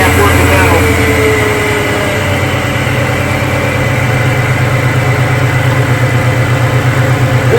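A Foxbody Mustang V8 with a VMP intercooler settles into a steady, close rumbling idle, a continuous low drone with a faint rhythmic pulse running underneath throughout.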